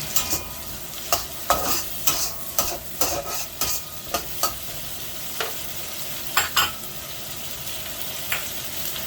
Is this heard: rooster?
no